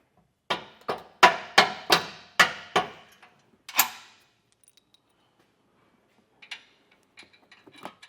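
Sharp metallic taps on a Curt trailer hitch receiver being nudged into place against the frame of a 2024 Ford Bronco, about seven quick ringing strikes in a row, then a single blow and a few faint clinks.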